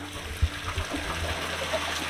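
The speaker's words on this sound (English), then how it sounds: "now you can see water flowing on this channel" Water runs along a channel at a wastewater treatment plant after backwashing, a steady broadband rushing flow with a few soft splashes and low thumps, fairly close and without talk.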